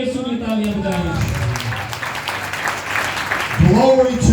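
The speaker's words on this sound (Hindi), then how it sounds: "यीशु की तालियां बजाएं।" A church congregation claps for Jesus in a sustained burst of applause that rises between stretches of a preacher's amplified speech, filling the room at moderate loudness.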